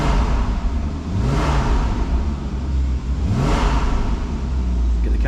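A Porsche Boxster 981 2.7 PDK in sport mode with sport exhaust revs twice to 3000 RPM, each rise and fall clear over a steady loud idle rumble, close by with no talking.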